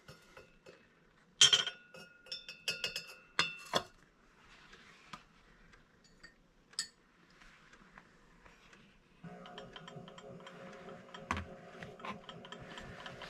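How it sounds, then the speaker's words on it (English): A small stir bar drops and clinks against a glass beaker in a copper ore leaching setup, with sharp glassy taps and rattles early on, then a steady faint mechanical whir as stirring begins. "I'm going to add a little stir bar in here."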